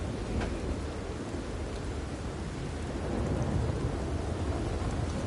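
Heavy rain with rumbling thunder in the open world of Red Dead Redemption 2, a steady dense downpour roaring throughout with low rolling thunder underneath, loud and unbroken with no voices.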